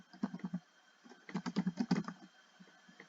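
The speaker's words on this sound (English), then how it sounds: "Let's just type that in." Typing on a computer keyboard up close, a quick cluster of soft key clicks, a short pause, then a denser rapid burst of keystrokes that trails off, with no talking.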